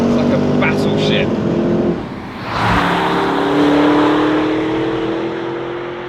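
A Porsche Cayenne GTS Coupé engine revs hard and close, a deep roaring drone that dips briefly, then surges back and settles into a sustained rising growl, with a voice talking over it.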